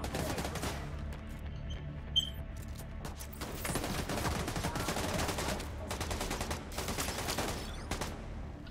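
Shotgun fire in a video game, a dense run of loud sharp blasts clustered in bursts with brief gaps, crisp and close throughout.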